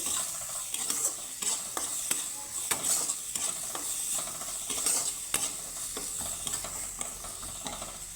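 Carrots fry in a pan with salt and are pressed and stirred firmly, giving a run of sharp, rhythmic scraping knocks over a continuous light sizzle, close and unaccompanied by speech.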